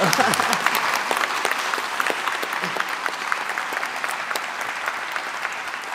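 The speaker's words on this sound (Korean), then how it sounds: "그 박수로 한번." An audience at an energy industry debate applauds, a loud, sustained wash of clapping that continues evenly for several seconds, with faint voices beneath it.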